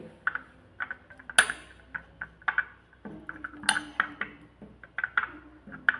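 A spoon mixing a homemade skin-care paste in a bowl gives repeated close clinks and scrapes against the bowl in an irregular rhythm, with a few brighter rings.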